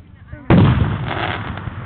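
A firework bursts with a sudden loud boom in Oregon, its rumbling crackle decaying over the next second and a half as it disintegrates. Faint chatter comes before the blast.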